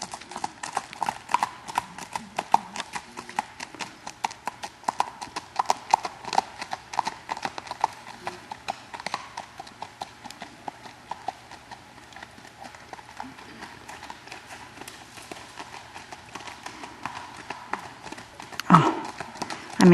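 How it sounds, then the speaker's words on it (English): A black and white spotted saddle horse moving at a smooth gait, its hooves clip-clopping in a steady rapid rhythm throughout, close and fairly constant, with some background noise. "He is a poster child for spotted saddle horses."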